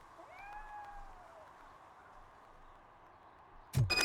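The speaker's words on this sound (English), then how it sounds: "All I can hear is a cat." In RoboCop: Rogue City, a single drawn-out cat meow rises and falls early on over a low ambient hum, followed by a sudden loud burst at the end.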